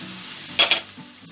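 Meat and celery seasoned with salt and black pepper sauté in a pan, a short soft sizzle with two quick bright scrapes of stirring, close and without talk.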